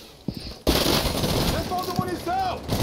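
Rapid bursts of gunfire in the video game Rainbow Six Siege crackle over a noisy background, with a few separate shots before and voices partly underneath.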